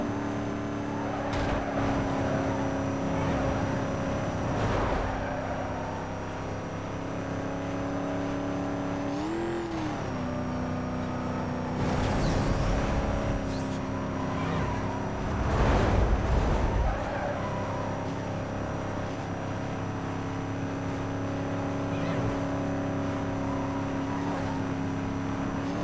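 A Ford Mustang's big American engine roars in Need for Speed Most Wanted, holding a high steady drone near redline at speed, with brief whooshes and shifts and a surge of revving midway, no talk.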